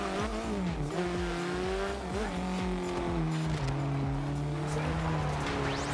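An Alfa Romeo 4C race car in Forza Horizon 2 on a test drive, its engine note rising and shifting through gears continuously, with tire squeal and skidding, someone talking over the car.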